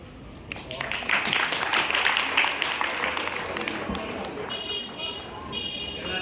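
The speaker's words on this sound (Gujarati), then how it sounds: "ખૂબ સરસ તાળી" Students at a school quiz applaud a correct answer, a dense burst of many hands clapping that swells, holds and then thins out over several seconds.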